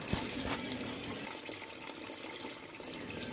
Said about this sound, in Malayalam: അപ്പോൾ അതുകൂടി എന്തായാലും ഒന്ന് കഴുകാമെന്ന് വിചാരിച്ചു.